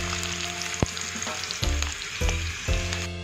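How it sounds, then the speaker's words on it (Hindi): Onions frying in oil in a pan while making vegetable pulao with potato and peas: a steady close sizzle with a few louder bursts as they are stirred. "वो फ्राई हो रहा है।"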